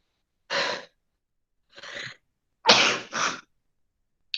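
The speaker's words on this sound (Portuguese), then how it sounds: "Deixa eu só espirrar um pouquinho." Sneezing provoked by household dust, four separate bursts: a single sneeze, a softer one, then two loud sneezes back to back, close to the microphone in an otherwise quiet room.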